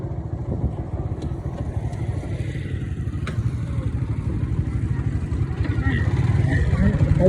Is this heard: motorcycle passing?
yes